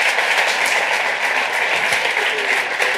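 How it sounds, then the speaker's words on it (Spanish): Audience at a talk on virtual reality in classrooms applauds a guest speaker, a loud, dense, steady clapping sustained throughout without break. "Un aplauso."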